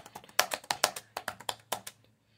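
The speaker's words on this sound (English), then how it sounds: "The keyboard on this device is also a lovely typing experience, with a nice clicky key feel and good travel." Rapid clicky keystrokes on a ThinkPad W510 laptop keyboard, about fifteen crisp taps in an uneven run, close and clear, then silence.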